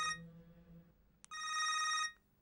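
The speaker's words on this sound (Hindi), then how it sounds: "किसका फोन आ गया?" A telephone rings with a bright electronic trill, one short burst followed by a longer sustained ring, fairly loud against a quiet room.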